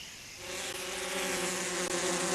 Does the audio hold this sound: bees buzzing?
yes